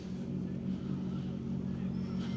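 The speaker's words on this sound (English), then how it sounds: "That does sound like a BMW M3 to me" BMW M3 rally car passing on a tarmac rally stage, heard as a faint, distant steady engine drone with a low humming rumble and no clear peak.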